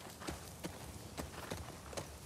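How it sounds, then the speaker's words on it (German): A horse being ridden in The Last of Us Part II, with a steady clip-clop of hooves in an even rhythm, fairly faint and mid-distance, no talking. "Wir reiten herum und halten Ausschau."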